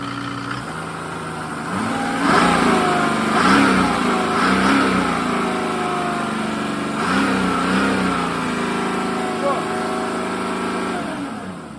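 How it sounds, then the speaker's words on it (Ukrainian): A Mercedes OM603 diesel engine driving a PN-40 water pump revs up and down, its mid-pitched drone swelling and falling back to idle close by, with voices faintly in the background. "Погазуй, только там не стой."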